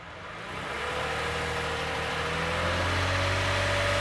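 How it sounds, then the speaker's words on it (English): A 2015 Toyota Sienna AWD with a 3.5 engine, after an exhaust leak repair at the donut gasket and rear converter, revs up from a low idle rumble into a steady, rising drone close by. "So I have a helper to rev it up a little bit."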